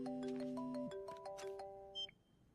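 Electronic telephone ringback tone with steady sustained chimes, then a short beep as a call connects, heard clearly with no talk over it.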